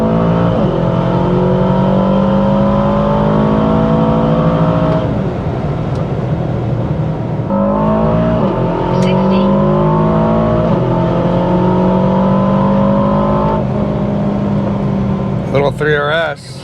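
An Aston Martin DBX707 SUV accelerates hard from highway speed, its engine note climbing in long, rising sweeps through the gears, loud and close with steady road and wind roar, while a voice talks over it.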